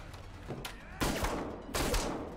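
Gunshots in a Korean TV drama scene, two or three sharp bursts of gunfire a beat apart, loud and echoing, with faint voices and background sound in between.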